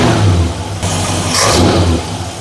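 The engine of a 1966 Ford Galaxie revs after a timing adjustment, a loud, close, throaty roar that rises and falls smoothly without a miss.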